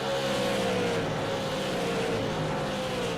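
A Super Late Model race car drives at Southern National Motorsports Park with a steady tonal engine drone that slides slightly in pitch. A wide blanket of background race noise surrounds it.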